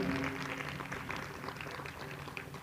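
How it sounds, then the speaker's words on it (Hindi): Audience at a Hindu religious discourse on the Devi Bhagwat Katha applauds steadily, a dense wash of many hands clapping at moderate distance, with faint musical tones or voices beneath. "तालियां बजाइए जरा जोर।"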